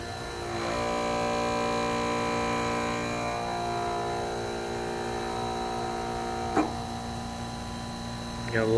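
A new 2 hp motor drives a Granite Smithy grinder, a steady tonal electric whine and hum that holds near and fairly loud, with a couple of faint knocks later on.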